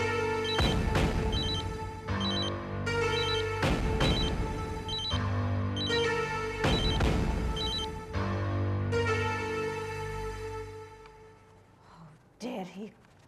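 A phone ringtone plays indoors in a repeating melodic pattern of bursts, ringing several times before it cuts off near the end.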